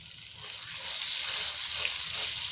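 Crushed garlic and red chilli paste fries in hot oil with a steady bright sizzle that swells after the first second and holds loud and close, a faint voice underneath.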